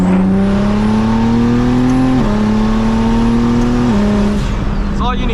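A single-turbo BMW 335is drives at half throttle, its engine and exhaust giving a loud, steady drone that climbs through the gears with shift breaks, heard from inside the car.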